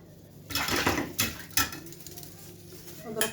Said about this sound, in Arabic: اضرب كويس جدا بالمضرب